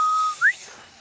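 A short, thin whistle holds one steady note, then slides briefly upward before fading out, heard alone.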